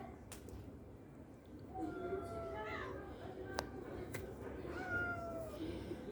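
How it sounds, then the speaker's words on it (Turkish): Several cats meow at a distance, a few drawn-out calls over a low, noisy background, with faint sharp knocks now and then. "Akşam kedileri bunlar, akşam."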